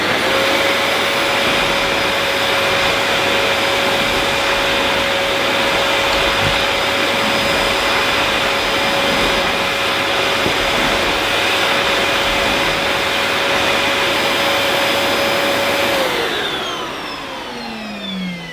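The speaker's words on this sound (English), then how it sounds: "this 1300 watt vacuum cleaner is way above the current limits, as will the noise level be" A Dyson DC26 City 1300-watt vacuum cleaner runs at a loud, steady whine with a constant tone, then powers down and winds away near the end.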